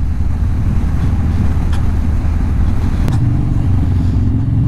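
Harley-Davidson Sportster 48 motorcycle riding along a country road near a bridge, a steady loud low engine drone with wind rush, continuous throughout with no talk.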